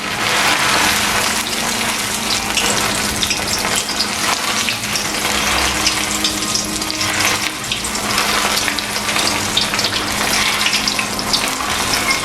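Dried shrimp frying in hot oil in a wok for Sri Lankan katta sambal, a loud continuous sizzle and crackle, steady and close with no pauses.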